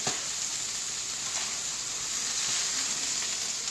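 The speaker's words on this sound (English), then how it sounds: "Start scrambling it up a little bit. And we're going to work it into our rice while it's cooking." Egg scrambling and sizzling in a pan with rice for shrimp fried rice, a steady close hiss of frying with faint stirring scrapes, heard alone without talk.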